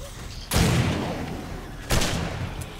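7 Days To Die gunfire aimed down at zombies from a raised spot during Horde Night, two loud separate shots with ringing decay, close and otherwise quiet.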